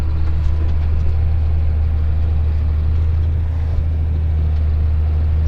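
A payloader tractor engine runs steadily in a muddy farm yard, a low, even idling drone that holds at constant loudness throughout with no talk over it.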